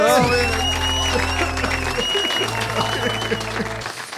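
Live comedy podcast audience applauding a quiz winner, a loud, sustained burst of clapping from a crowd with music underneath, tapering slightly toward the end.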